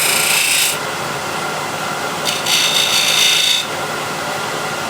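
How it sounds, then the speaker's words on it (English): A wood carving gouge sweeps an arc across the wooden lid of a small heirloom box, giving two close, dry scraping strokes, a short one first and then a longer one, with a low hum between. "So I go slightly in, open the gouge and go in an arc towards"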